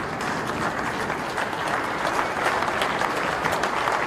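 Audience at the 2021 Motorcycle Cannonball awards ceremony applauds a competition crew, a steady, dense wash of many hands clapping throughout, fairly loud and continuous with no speech over it.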